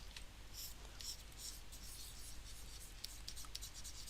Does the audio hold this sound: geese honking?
no